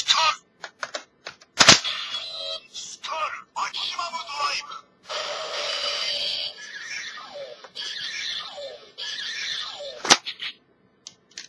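A Kamen Rider Double DX Skull Magnum toy gun gives sharp plastic clicks and snaps, close and intermittent, interleaved with its electronic sound effects and someone talking.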